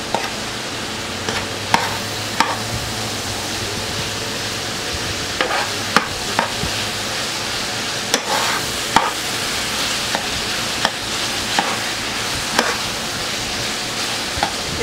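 Cream cheese being broken up and stirred into browned meat in a pan for keto stuffed bell peppers, a steady sizzle with scraping spoon strokes and sharp taps against the pan at irregular intervals.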